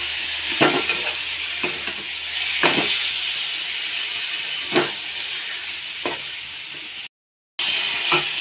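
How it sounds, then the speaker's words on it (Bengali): Spices frying in a pan with turmeric and salt for katla fish curry, a constant sizzle and hiss broken by regular scraping strokes of a stirring spoon, close and continuous. "দিয়ে আমি ভালো করে নাড়াচাড়া করব।"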